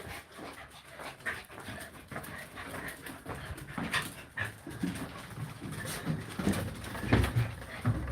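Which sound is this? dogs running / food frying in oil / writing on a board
dogs running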